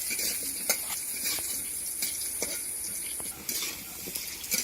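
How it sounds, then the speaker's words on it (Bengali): Potato pieces fry in hot oil seasoned with five-spice, a constant sizzle broken by repeated scraping clinks of a utensil stirring against the pan, with no talking. "আলুগুলো একটু ভেজে নেব।"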